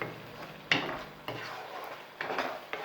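Spices, salt and chopped green chillies being stirred together in a cooking pot for chicken handi, with a few sharp clinks of spoon against metal over a steady soft scraping and faint sizzle, close by.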